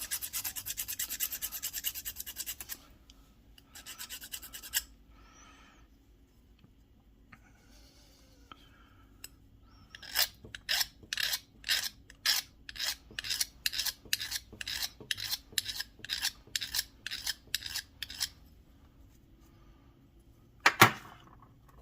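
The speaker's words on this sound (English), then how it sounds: "we'll just take our file here and slowly work it down" A hand file works flashing off the edges of a silver model Tie Fighter in short rhythmic rasping strokes, close and crisp, with quiet gaps and a few handling knocks between bursts.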